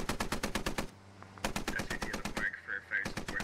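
Rapid bursts of automatic gunfire aimed at a striker vehicle in a squad-based military shooter game, repeating in fast volleys with short gaps between them.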